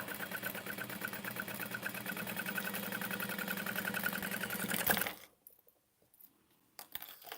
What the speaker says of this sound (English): we're gonna sew across the top